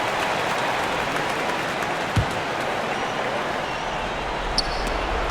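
A virtual arena crowd in NBA 2K18 cheers and applauds during a game against the Portland Trail Blazers, a steady wash of noise with a couple of faint thumps and no voices over it.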